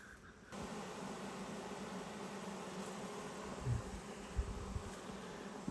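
Steady, dense buzzing of a honeybee swarm fills the air, continuous and close, with a few low thumps near the end and no voices.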